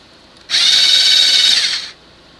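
A Prismacolor Verithin colored pencil is sharpened in a single loud, close whirring burst of about a second and a half that starts and stops abruptly.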